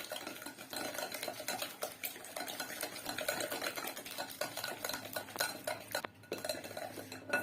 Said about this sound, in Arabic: يعني كنخدمو غير بالطراب اليدوي